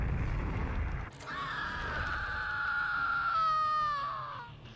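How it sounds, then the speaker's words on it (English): Robin screaming in Dead by Daylight: after a sharp thud, a sustained, wavering high-pitched scream rises and trembles for a few seconds at moderate loudness, then cuts off, with no talking. "Good big old Robin scream."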